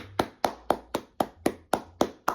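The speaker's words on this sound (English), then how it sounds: "round of applause" Eight sharp, evenly spaced hand claps, loud and close with a slight woody knock, at a steady rhythm with no voices.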